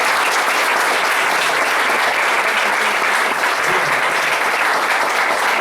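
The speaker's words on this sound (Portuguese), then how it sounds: "com as palmas bem fortes para o Senhor" A church congregation claps loudly for the Lord, a thick, continuous roar of many hands that stays constant and intense throughout.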